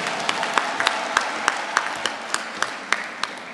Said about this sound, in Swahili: Piga makofi mengi kwa Dr.